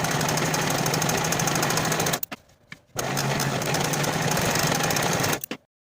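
A sewing machine runs fast and steady, finishing the center back seams of vest back bodice pieces, with a brief pause in the middle before stitching resumes and then stops.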